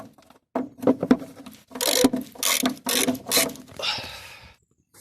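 Ratchet wrench undoing the bolts on a BMW E36 3 series fuel tank, bursts of rapid clicking in several short strokes separated by pauses, close and fairly loud.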